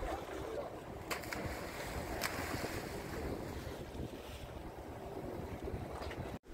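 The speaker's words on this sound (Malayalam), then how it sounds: "നല്ല കാറ്റുണ്ട് കേട്ടോ" Strong wind roars steadily over the open sea from a fishing boat, with waves washing and rumbling beneath it and a few brief gusts buffeting the microphone.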